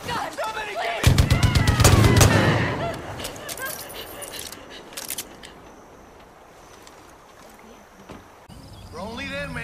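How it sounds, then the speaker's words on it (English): Gunfire close by in Far Cry 5, a rapid burst of sharp shots around one to two seconds followed by scattered single cracks and fading ambience, with a voice speaking at the end. "Gunshots close by."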